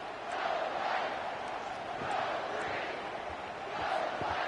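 Stadium crowd in a college football video game on fourth down roars as a broad, continuous din that swells and recedes in waves, with no talk over it.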